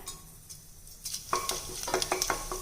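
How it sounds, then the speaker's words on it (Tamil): Cinnamon, cloves and fennel seeds sizzle in about two tablespoons of hot peanut oil, tempering for chicken kuzhambu. A soft hiss builds into sharp, crackling pops and spits partway through, then keeps up a close, busy frying sizzle. "தாளிக்கிறதுக்கு கடலெண்ணெய் விட்டுக்கிறேன்."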